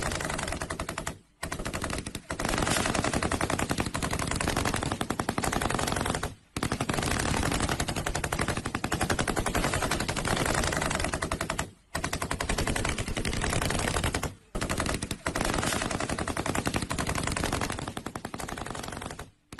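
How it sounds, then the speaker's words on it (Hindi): Sustained automatic gunfire during an Israeli ground attack on Lebanon, loud dense bursts of rapid shots running almost continuously with a few brief pauses, no voices. "गोलाबारी और रॉकेट लॉन्च की आवाजें आप सुनिए"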